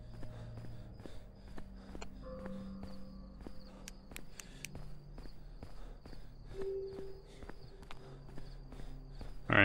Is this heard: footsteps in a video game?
yes